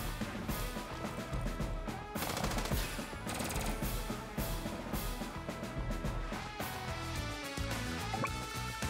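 Units shooting in Advance Wars, with bursts of sharp, rattling game shots over steady background game music, the busiest burst in the middle.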